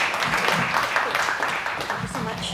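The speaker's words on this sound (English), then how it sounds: "A round of applause." Audience applause at a conference talk on Ethereum, a steady wash of clapping that fills the whole stretch at moderate loudness, with voices mixed in.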